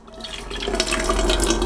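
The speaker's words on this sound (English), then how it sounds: "we can pour the dirty water back into the bowl" Water pours steadily into a bowl while cleaning a copper still, a continuous close splashing wash that builds slightly in loudness over a couple of seconds.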